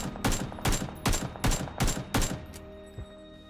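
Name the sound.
unsuppressed AKM rifle gunfire in video game PUBG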